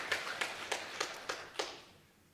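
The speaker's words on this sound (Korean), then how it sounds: "박수하겠습니다." A church congregation at a Sunday worship service claps in a short burst of six evenly spaced, sharp claps, moderately close, fading out quickly afterward.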